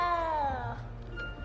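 A frightened little cat meowing in a Hogwarts video game, one drawn-out, falling, plaintive meow up close, followed by low background rumble and a faint, brief second cry.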